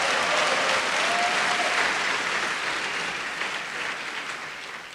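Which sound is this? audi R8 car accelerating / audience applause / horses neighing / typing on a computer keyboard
audience applause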